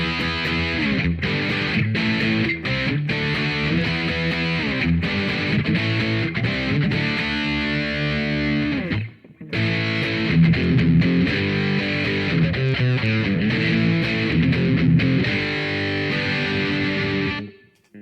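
Heavily distorted electric guitar plays chugging metal riffs, loud and dense, with a brief break midway before the riffing resumes.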